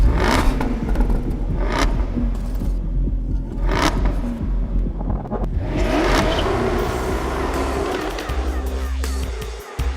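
Jaguar F-Type Coupe engine growling and revving, with several sharp throttle blips early on and a deep, rumbling idle and roar that continue through to a sudden drop near the end.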